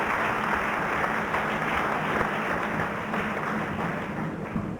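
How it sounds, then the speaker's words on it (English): Steady audience applause fills a hall at a speech event, a dense even patter of many hands held at moderate volume throughout. "And we should all applaud Mrs. Rupani and the family."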